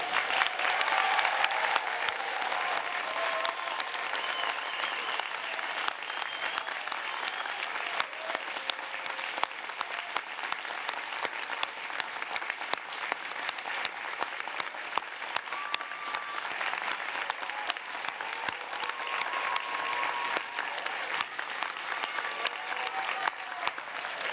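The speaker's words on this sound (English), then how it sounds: "Can you please join me in an enthusiastic and thunderous applause?" Sustained applause from a large crowd, a dense steady wash of clapping that keeps going for over twenty seconds with no talking over it.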